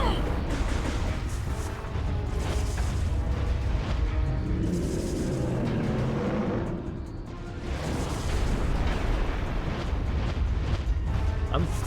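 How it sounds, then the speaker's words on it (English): Explosions boom in Metroid Prime 3, a dense sustained roar of blasts and rumbling that dips briefly midway before surging again, loud and close throughout. "An explosion near the feet."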